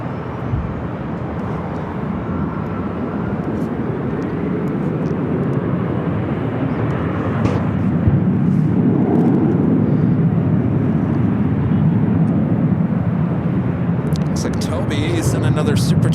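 A SkyWest airliner takes off from runway 24 left at Los Angeles International Airport, giving a steady, loud broadband jet roar that holds for the whole stretch, with faint voices underneath.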